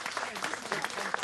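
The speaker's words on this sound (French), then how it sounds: "Une tout à fait bonne réponse, on peut l'applaudir bien fort." Audience applause in a studio setting, steady dense clapping throughout a short burst, moderately loud with no break.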